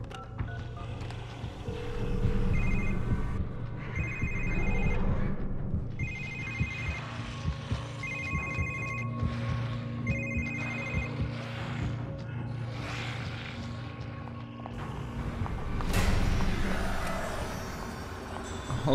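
A telephone rings in The Evil Within horror game, a series of electronic warbling rings at a steady rhythm over a low droning ambience, with a sharp thud near the end.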